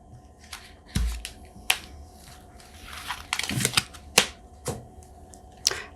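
Tarot cards are drawn and handled in a series of sharp snaps and soft shuffling slides, close and fairly quiet, with brief rustles between the clicks.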